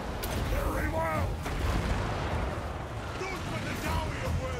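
Dwarf cannons and bombs firing in a Total War: Warhammer 2 battle, a steady loud roar of booming artillery and blasts that runs without a break beneath excited talk.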